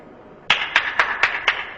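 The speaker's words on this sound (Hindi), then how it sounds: "लो तालियों।" Five slow, evenly spaced hand claps, sharp and close, beginning after a short quiet moment and ringing out in a steady rhythm with no voices.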